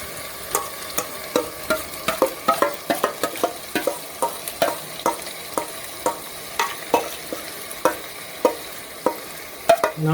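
Masala being stirred and fried with mutton, marinade and potatoes for a meat and potato curry, a spoon scraping the pan in steady repeated strokes over a constant sizzle, close and alone.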